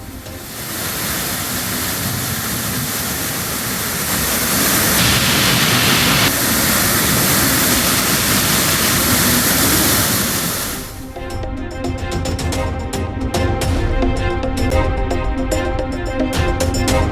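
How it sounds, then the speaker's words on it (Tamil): Flooded Courtallam Main Falls and Five Falls in spate, a loud continuous roar of heavy falling water that holds steady throughout, with a slightly different turbulent rush partway through. "குற்றாலம் மெயின் அருவி மற்றும் ஐந்தருவியில் வெள்ளப்பெருக்கு"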